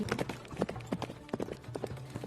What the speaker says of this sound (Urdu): رات کے وقت وہ گھوڑے پر سوار ہو کر سیدھے عنبر کے محل میں پہنچی۔